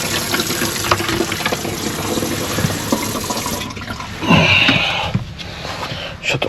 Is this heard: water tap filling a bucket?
yes